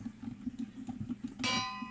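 A bright metallic bell ding rings out once in the video game Minecraft, a clean clanging strike with a ringing tail after a quiet low hum.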